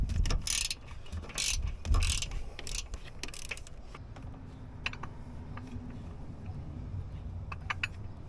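Wrench loosening a bolt on a Cadillac SRX: rapid ratcheting clicks up close, louder and denser at first, then lighter scattered clicks over low mechanical rumble.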